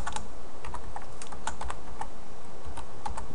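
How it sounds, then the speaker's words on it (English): Keystrokes clatter on a computer keyboard while code is typed in Visual C# 2010, a quick irregular run of sharp clicks over about three seconds, close and clear with no talking. "So we're going to go ahead and type in convert"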